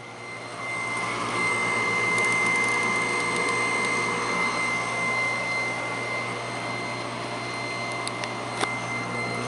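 A pump circulating a biodiesel batch hums steadily, a continuous mechanical whine with a strong tonal drone and faint rattling, close and unchanging, with a couple of small clicks near the end.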